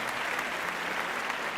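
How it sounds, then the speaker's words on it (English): Steady applause from a crowd, dense and continuous throughout, fairly distant and moderately loud. "This applause is for you."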